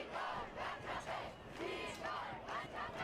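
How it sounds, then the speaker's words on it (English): Excited crowd at a public rally in Republic Square, Yerevan, Armenia, loud and close, with massed voices chanting and shouting in rhythmic swells that rise and fall about every half second. "You're watching a very excited crowd on screen, live from the Hırabarag, Republic Square."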